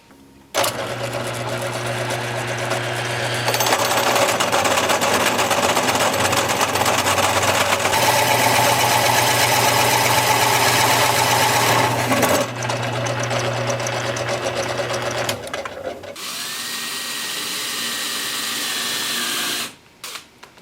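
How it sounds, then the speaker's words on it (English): A wood lathe spins a butternut wood blank with a steady motor hum and whine, its pitch shifting as the speed changes in stages, then cutting off sharply near the end; no talk is heard. "We're going to get this mounted up on the lathe and get to turning."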